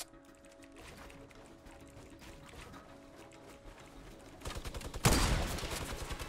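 A minigun in the video game Fortnite fires in dense, continuous rattling bursts that grow louder and harsher toward the end, over steady game background noise.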